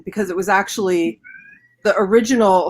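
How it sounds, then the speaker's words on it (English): A pet cat gives a short, faint meow in a brief gap between stretches of a person talking, with the voice loud and close on either side. "sorry, that's my cat."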